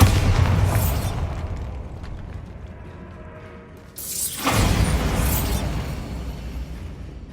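The Bombarda explosion spell in the video game Hogwarts Legacy goes off twice: each time a loud booming blast with a crashing, debris-like burst that fades out before the second explosion erupts.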